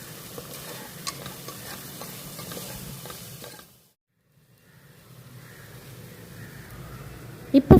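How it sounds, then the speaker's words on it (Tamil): Masala with coriander powder sautéed and stirred in a pan makes a soft, continuous sizzle with light scraping, a short silent gap, then sizzling again and a loud clatter at the very end. "இப்போ இது எல்லாத்தையும் வந்து நம்ம நல்லா வதக்கி விட்டுக்கலாம்"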